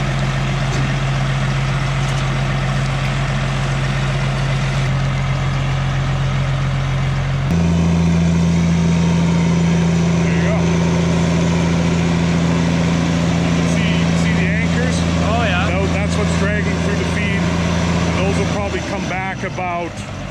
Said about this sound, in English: Now he's gonna try driving ahead.